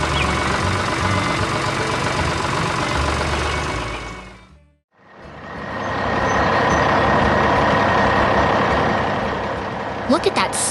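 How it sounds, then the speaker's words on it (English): A heavy orange dump truck loaded with bricks runs with a loud, steady engine roar. The sound cuts out briefly partway through, then rumbles back up, with a voice talking over it. "Look at that sturdy orange truck carrying its heavy load of bricks."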